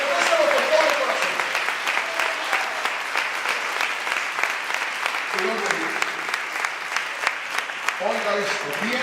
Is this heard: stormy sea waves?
no